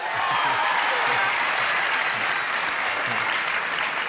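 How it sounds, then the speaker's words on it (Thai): Game show studio audience applauding for Boyd Kosiyabong, a dense, even roar of clapping from a crowd that holds steady throughout. "ขอเสียงปรบมือเลยครับ"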